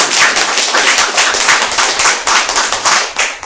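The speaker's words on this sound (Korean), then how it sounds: "큰 박수를 쳐주십시오." A church congregation claps loudly together during a Sunday worship service, with dense, sustained applause of many hands that keeps going without pause and with no voices over it.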